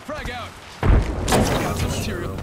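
A frag grenade goes off in a first-person shooter match with a single loud, close boom and low thud, followed by lingering crackle and game sounds while voice chat talks over it.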